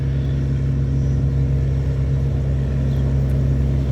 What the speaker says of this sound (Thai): เสียงพละกำลังของเครื่องยนต์นี่ บอกเลยนะครับ กระหึ่มแน่ครับ